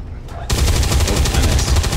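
A gunshot burst from the XCOM 2 Long War 2 video game, loud and close, firing as a rapid run of repeated reports that carries on after a short quiet lead-in.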